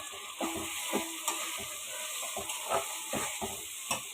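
Tomatoes frying in spice paste for a beef and chickpea-lentil dish, a close sizzling hiss with a rapid series of stirring scrapes and knocks against the pan.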